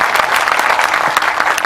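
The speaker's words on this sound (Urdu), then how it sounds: "میں ایک بار زوردار تالی و سواگت جناب اکرم انصاری صاحب کے لیے" Loud, dense applause from an audience at a Momin Ansar Sabha gathering in West Bengal, welcoming Akram Ansari, steady clapping with a crowd murmur throughout.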